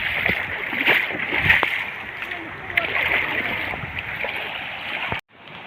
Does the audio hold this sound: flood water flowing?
yes